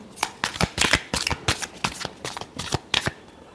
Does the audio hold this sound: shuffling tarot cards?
yes